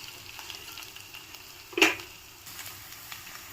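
Ivy gourd (dondakaya) frying in a pan gives a soft, continuous sizzle, with one brief louder stir or scrape partway through and no talking.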